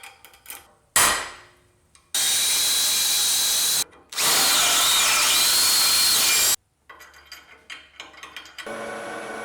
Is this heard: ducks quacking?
no